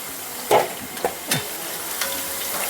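Cauliflower frying in hot oil for pickle, with a soft, even sizzle under a few sharp clinks and scrapes as the pieces are stirred and lifted out.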